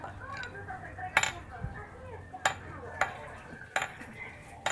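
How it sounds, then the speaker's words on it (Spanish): A spatula scrapes and clinks against a pan while chile is stirred, giving several sharp, fairly faint metallic knocks spaced about a second apart over a soft kitchen background. "ahora sí lo voy a revolver bien todo el chile"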